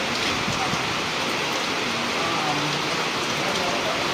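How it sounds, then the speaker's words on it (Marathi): Monsoon rain pours down outside a building in a steady, dense hiss with scattered pattering drops, constant and fairly close, without pauses. "पाऊस पडलाय म्हणून बिल्डिंग खाली थांबलोय मी."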